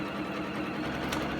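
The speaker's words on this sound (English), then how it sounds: "I'm going to sew just off of that line just a little bit" A sewing machine stitches quilt half-square triangles with a steady, close, fast mechanical whir that runs throughout, no voices.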